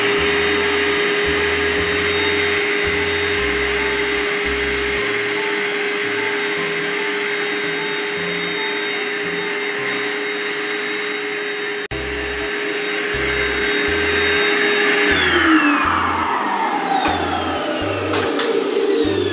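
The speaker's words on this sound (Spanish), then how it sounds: "Empezamos donde marcamos y encendemos el aspirador." A vacuum cleaner roars steadily and loudly close by while a drill bores into a wall, the drilling adding intermittent low thumping pulses and a pitch that drops as the bit slows near the end.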